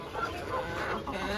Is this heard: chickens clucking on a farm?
yes